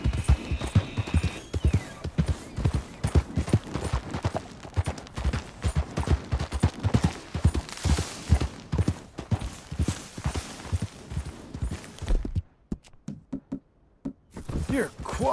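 Horse hooves clip-clop in Red Dead Redemption, a close, steady rhythmic trot of sharp knocks that runs for about twelve seconds, drops out briefly, then resumes.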